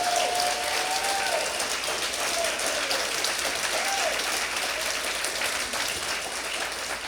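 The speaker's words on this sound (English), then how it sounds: "Let's give them a round of applause." A festival audience at the Nebraska Storytelling Festival gives the planning committee a sustained round of applause, dense and even clapping from a sizable crowd that fills the whole stretch without letting up.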